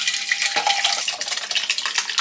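A cream sauce cooks on a saute setting while being stirred, giving bright, uneven scraping and light metallic clinks over a low bubbling sizzle, close and fairly loud with no talking.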